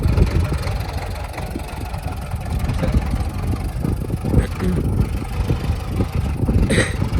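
A tractor engine runs at a steady, rumbling idle-to-medium pace in a field while potatoes are planted with a new planter. The continuous, fairly loud drone has no speech over it.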